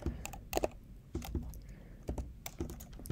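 Someone types code on a computer keyboard, giving a few quiet, close, irregular key clicks in short bursts with gaps between them.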